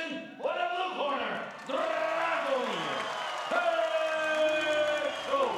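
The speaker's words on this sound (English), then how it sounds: "And listen to the crowd, Ernesto, the home fans cheering their boy on." A crowd of home fans cheers at a professional fight event between Bulgarian and Georgian fighters after a unanimous decision, a steady roar from the arena with a voice speaking loudly over it.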